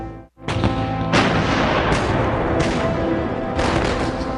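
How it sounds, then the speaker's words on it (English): Naval artillery from US battleships shelling Guadalcanal and Tulagi in August 1942, heard as a loud, continuous barrage of heavy booms: four or five big blasts rolling into one another over sustained rumbling, with no voices. "US battleships start shelling the islands of Guadalcanal and neighboring Tulagi"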